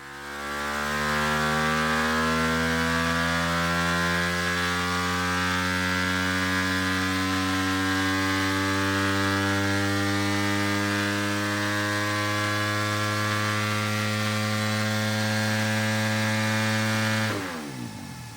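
A Yamaha YZ300FX dirt bike with a 304cc Athena big bore kit runs on a dyno at 25% throttle. The engine's loud buzzing tone climbs steadily in pitch as revs sweep upward for about seventeen seconds, then cuts off abruptly.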